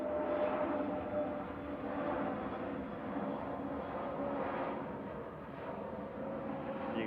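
An airliner arrives at Manchester Airport, its engines a steady distant rumbling roar that swells and fades slightly over several seconds without voices.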